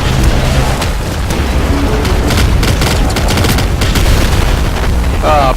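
Dense, continuous game gunfire and explosions from Nuclear Throne, with rapid bursts and booms layered together in a loud, unbroken barrage throughout.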